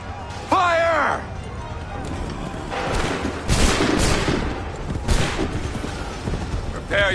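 Ragged musket volleys from an Assassin's Creed III battle crackle through a noisy field, several broad bursts spread across the clip after a shouted order, with movement and clatter underneath.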